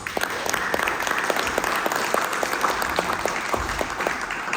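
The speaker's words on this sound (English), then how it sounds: "let's give a big round of applause" A crowd cheers on a high school football team, the LaVille Lancers, with dense, continuous applause. Many overlapping claps form a steady, fairly distant wash that lasts throughout.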